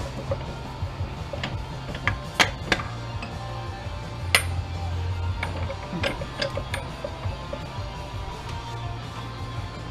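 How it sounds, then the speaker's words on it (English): Metallic ticks, clinks and scrapes of a wrench working a bolt loose at the back of a windshield wiper motor assembly being scrapped, close and sporadic with a few sharper knocks over a low background hum. "Got a bolt in the back I'm going to try to get out."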